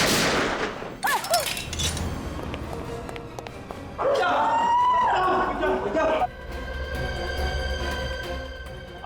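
Gunfire erupts in a scene from the TV crime show CID, with sharp shots and bursts mixed over dramatic music, blaring tones and a brief shout, loud and close.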